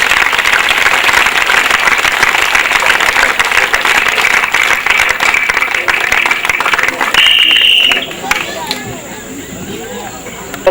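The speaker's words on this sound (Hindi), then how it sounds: "एक बार दो बार तालियां बजाएंगे।" Sustained applause from a large audience at a school centenary celebration, loud and dense clapping filling the whole stretch, easing slightly near the end as a high tone cuts in.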